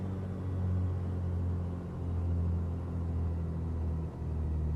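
A piston Duke aircraft engine in Microsoft Flight Simulator rumbles as a continuous deep drone at a steady level, with only a slight dip near the end and no voices.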